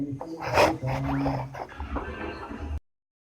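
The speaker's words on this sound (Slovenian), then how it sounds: "to je moj kuža tule. Še njega zanima" A pet dog whimpers and pants close by indoors, with soft whines over quick breathing for under three seconds before it cuts to silence.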